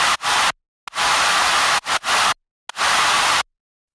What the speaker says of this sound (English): Used white noise and crowd effect to fill out the frequency spectrum